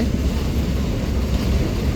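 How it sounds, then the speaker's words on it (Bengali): A local train in Bangladesh, on the line toward Kaunia junction, rumbles with a steady, loud low-frequency roar and faint wheel clatter, heard continuously from on board or close by. "এবার আমরা মূলত এই লোকাল ট্রেনটাতেই উঠে"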